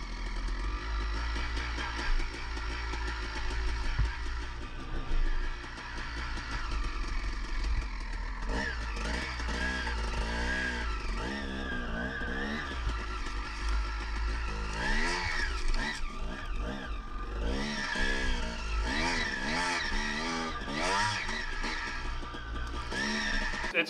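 A two-stroke dirt bike engine running through a heat cycle after a fresh top-end rebuild, loud and close, with a steady buzzing idle broken by repeated revs that rise and fall, no talking.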